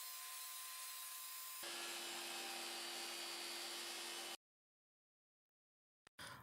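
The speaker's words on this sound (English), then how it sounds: "First, I'll cut this L-shaped aluminum profile to size." A power saw cuts through an L-shaped aluminum profile, a loud continuous high-pitched grinding that shifts in tone partway through, then cuts off abruptly into silence before a brief burst returns.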